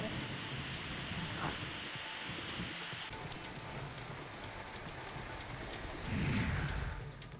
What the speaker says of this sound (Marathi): या भागाला पाऊस झोडपून काढतोय